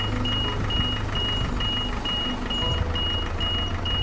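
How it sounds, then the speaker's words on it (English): A truck's reversing alarm beeps in a steady repeating rhythm over a low engine rumble, sounding like a vehicle backing up in the game Hypermarket Billionaire. "It's the sound of me backing up outside."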